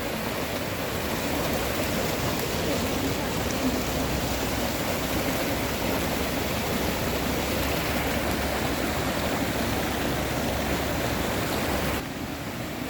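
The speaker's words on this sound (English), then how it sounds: "I'm sure you can hear the water." Flooded creek on a homestead rushing fast, a steady dense roar of churning water filling the whole stretch without pause, close and loud with no voices.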